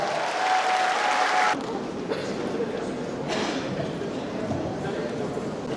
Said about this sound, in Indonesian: Kita sambut Bapak Frans Leburai dengan tepuk tangan